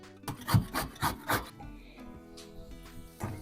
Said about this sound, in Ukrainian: моркву натру на великій терці